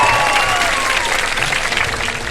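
Studio audience applause on a television show, a loud, close wash of clapping that stays even for a couple of seconds, with a faint tonal whistle running underneath.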